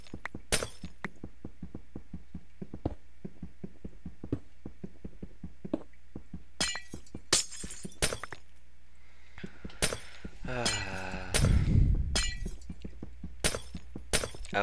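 Glass shattering in the game Sea of Flames II, sharp clinks and breaking impacts scattered across the span, with a louder crashing burst near the end over a quiet background.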